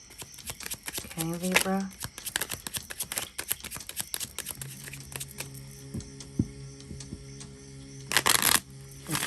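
Tarot cards are shuffled close up in quick riffling bursts and soft flicks, followed by a few slaps and clicks as cards are laid down, while someone speaks briefly.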